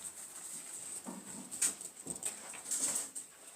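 A dog whimpers in short, soft whines and snuffles in a workshop during spoon carving, with faint knocks and a steady high electronic whine in the background.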